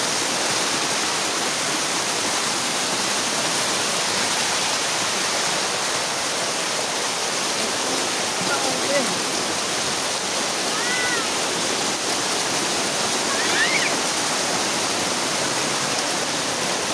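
Havelock waterfall in the Andaman Islands pours steadily in a loud, dense, continuous rush of falling water, close by and unbroken for the whole stretch, with faint bird calls barely audible over the roar.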